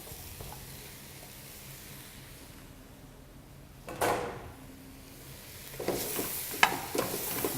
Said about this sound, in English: drop in the mushrooms.